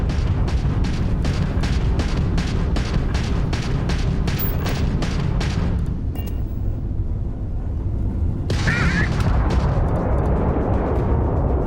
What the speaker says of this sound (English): Press mouse 2 to fire the ballistic cannon.